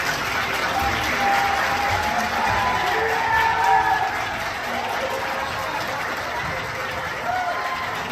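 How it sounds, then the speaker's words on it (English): Legislators in the Arizona state chamber applaud and cheer after a vote blocking debate on an 1864 abortion law; dense, steady clapping and crowd noise fill the whole stretch, with a few voices mixed in. "There they are cheering that there isn't even going to be a conversation about what to do about this 1864 law"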